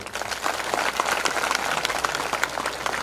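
A crowd applauds with dense, steady clapping that holds at an even level throughout.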